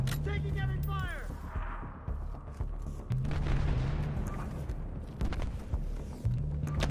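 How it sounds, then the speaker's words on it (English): Heavy gunfire and explosions in a video game battle keep up a dense, continuous rumble of shots and booms across the whole stretch, with a few sharper blasts standing out. "Taking heavy fire!"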